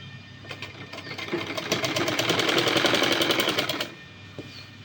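A sewing machine stitching along the folded edge of a garment neckline, starting with a few slow stitches, speeding into a fast loud rhythmic whir, then stopping abruptly.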